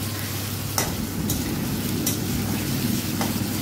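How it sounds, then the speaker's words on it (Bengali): Onions and garlic cloves fry in a pan with a constant close sizzle, broken by a few sharp scraping clicks of a spoon stirring against the metal. "দেখো পেঁয়াজগুলো কিন্তু আমি ভেজে নিচ্ছি। এবার রসুনের কুয়োগুলো দিয়ে দিলাম।"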